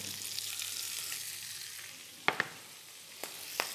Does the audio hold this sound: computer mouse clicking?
no